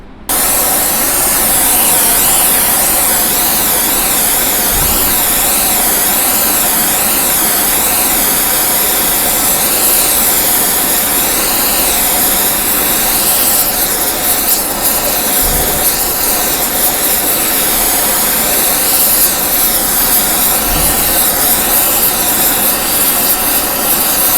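A torch roars steadily and loudly throughout as it preheats a steel debarking knife before a Colmonoy 88 alloy coating is sprayed on, with the hissing flame unbroken from start to finish.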